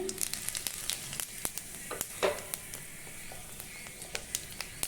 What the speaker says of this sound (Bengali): এখন এখানে আমি অল্প সামান্য পরিমাণে জিরে দিয়ে দিচ্ছি।